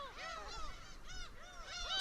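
Crowded black-tailed gull colony on a sea island, many birds giving repeated nasal, mewing calls that overlap steadily, some close and clear, others fainter in the background.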